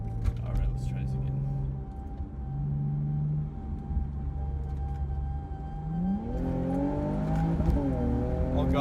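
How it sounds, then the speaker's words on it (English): A 2004 Infiniti G35 coupe's VQ engine revs hard up to its 7,200 rpm rev limiter, a loud rising drone that climbs, bounces off the limiter and falls back, with a voice speaking over the engine. "That rev limiter though."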